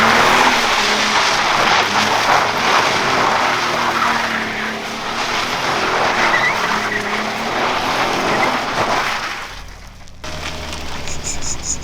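A first-generation Audi A3 swapped to a VR6 engine and driven hard, with loud engine roar and tire squeal that build and then cut off abruptly near the end.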